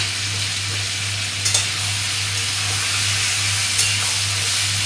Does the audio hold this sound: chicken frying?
yes